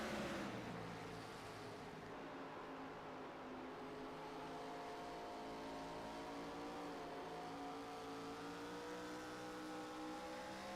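A race car at an ARCA Series 225 race at Iowa roars continuously for about eleven seconds, a steady loud engine drone with rising pitch as it accelerates, no voices over it.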